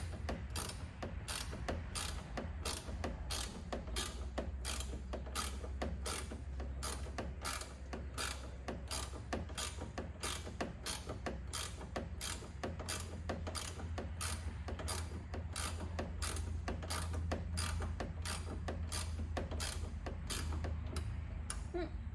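A ratchet loosening a bolt on a Jeep JL Rubicon fender gives off a steady run of rapid, even clicks that hold unbroken for over twenty seconds at close range.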